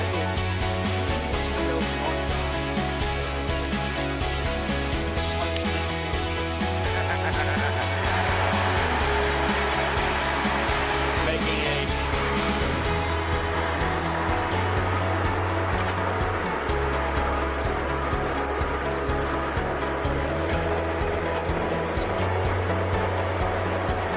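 A 400 CFM, 200 PSI air compressor runs continuously beside a pipe-relining job using an air hammer and HDD rig on 8-inch HDPE pipe, a loud steady droning roar with a pulsing low rumble throughout.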